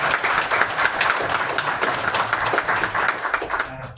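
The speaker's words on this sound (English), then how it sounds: "Let's give Alice a round of applause." Audience applause at a demo night, a full, even patter of many hands clapping together from start to finish, fairly loud and close, tapering off at the very end.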